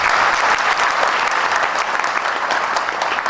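A crowd at a Chotila convention gives sustained applause for the newly elected Saurashtra president; loud, dense clapping from many hands runs evenly throughout, close and unbroken, with no speech over it.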